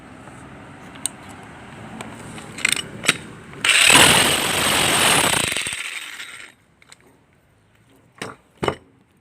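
A Makita HR3850 rotary hammer, being repaired for a fault with hammer drilling, runs in a loud, rattling, buzzing burst of about three seconds after scattered clicks and knocks, then falls back to quiet handling clatter.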